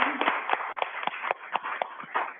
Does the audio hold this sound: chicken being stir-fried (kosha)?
no